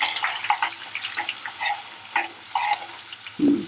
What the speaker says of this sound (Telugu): పోపు మంచిగా గోలితేనే బాగుంటుంది